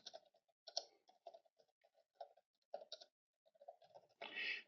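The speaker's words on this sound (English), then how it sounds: "I'm not very good at typing, but I'm typing." Fingers tap out an irregular series of quiet, close clicks on a computer keyboard, with short pauses between bursts and a louder clatter at the end.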